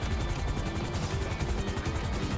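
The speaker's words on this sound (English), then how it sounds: "Chopper going in the LZ." Helicopter in GTA V, a steady rotor chop with low thumping pulses and rushing engine noise holding at constant loudness throughout, with no other sounds standing out.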